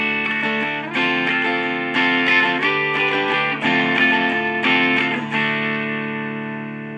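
Distorted electric guitar played through a Tweaker 40 amp modeler strums several chords in a row, the last one left ringing out and fading.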